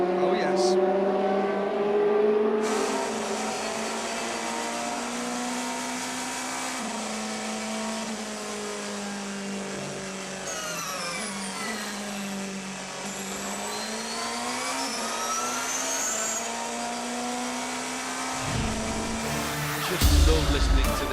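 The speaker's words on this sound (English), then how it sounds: "listening to these engine notes." Endurance race cars at the 2014 6 Hours of Bahrain (FIA WEC) howl past, engines rising and falling through gear changes in a steady, loud, sustained drone, one car's pitch sweeping up as another approaches near the end.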